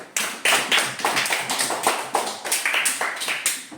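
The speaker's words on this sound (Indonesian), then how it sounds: "kita tepuk tangan untuk kelompok 3" A classroom of students claps for a group after its report, a quick, fairly loud run of close, sharp hand claps with a slight rhythmic pulse.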